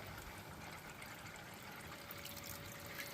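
Faint, steady trickle of water running through a homemade machine built to catch ultra fine gold, a low continuous wash with no talk.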